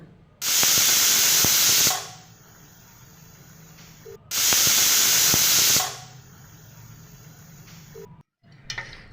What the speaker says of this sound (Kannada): ಕುಕ್ಕರ್ ಲಿಡ್ನ ಕ್ಲೋಸ್ ಮಾಡಿಬಿಡ್ತೀನಿ ಒಂದು ನಾಲ್ಕು ವಿಷಲ್ ತಗೊಳ್ಳೋಣ